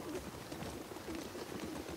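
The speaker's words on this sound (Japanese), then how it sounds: "なんか音がする。 鳥か。" Soft, repeated cooing of doves or pigeons in The Last of Us Part II, over a steady low ambient hum, fairly faint and continuous with no talking.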